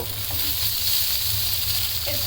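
Chicken pieces frying in hot oil for a homemade chicken burger, a steady dense sizzle with faint stirring underneath, close and continuous throughout.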